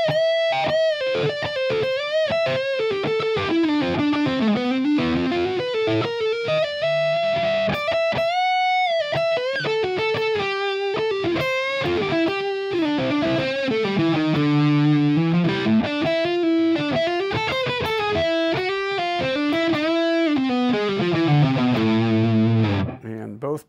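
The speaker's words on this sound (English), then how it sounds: "mondo distortion." Gibson Les Paul AFD Appetite For Destruction Slash signature electric guitar played with heavy distortion, loud sustained lead lines and bends running almost continuously for over twenty seconds with no talk over it.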